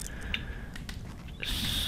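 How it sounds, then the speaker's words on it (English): Licorice is chewed close to the microphone, producing soft, quiet, irregular squishy bites and mouth sounds over a faint steady hum. "I should probably apologize beforehand for any crunching sounds you hear on the loading screens, but I am eating licorice"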